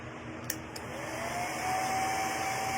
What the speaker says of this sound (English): I'm probably going to hit this really quick with my little air dryer, my blow dryer